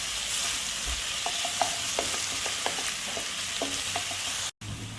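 A tablespoon of garlic sautés in a hot pan, a close, steady sizzle with scattered clicks and taps of stirring, briefly cut to silence near the end.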